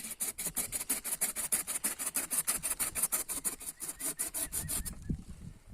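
A hand saw cuts through a plum tree branch in quick, steady back-and-forth strokes, close and rasping, then stops abruptly.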